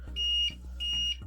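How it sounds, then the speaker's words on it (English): A UPS battery backup beeps during a simulated power outage: two short, high electronic beeps repeating in a steady rhythm over a low background hum, clear and close. "UPS is beeping."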